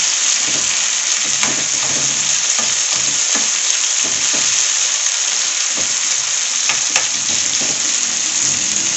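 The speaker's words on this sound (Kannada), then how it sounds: "ಇದನ್ನು ಇವಾಗ ಚೆನ್ನಾಗಿ ಎಣ್ಣೆಯಲ್ಲಿ ಫ್ರೈ ಮಾಡ್ಕೊಳ್ಳೋಣ" Ridge gourd pieces frying in hot oil give a steady, close sizzle throughout, with scattered crackles and stirring scrapes and no voices.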